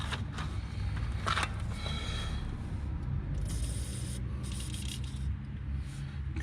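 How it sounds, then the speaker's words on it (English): An aerosol can sprays oil onto a threaded stud before a two-piece die is used, giving several short, close hissing bursts over a low background rumble. "So I'm going to spray a little bit of oil on here"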